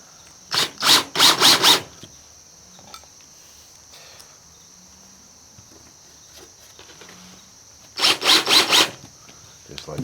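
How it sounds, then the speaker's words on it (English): Wood screws go into a board on a simple blade grinding jig as two clusters of rapid, stuttering, ratchety whirs, each about a second long. A quiet gap of several seconds separates them. "Throw a couple of more wood screws in here."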